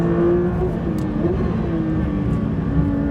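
A Porsche GT3 RS Weissach driving fast on a track, its engine a loud, close, sustained roar with steady pitch and slight wavering as it holds speed through a corner, with no talking.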